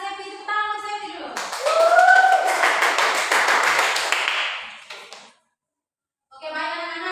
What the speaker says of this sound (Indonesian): Tepuk tangan untuk Sefi dulu.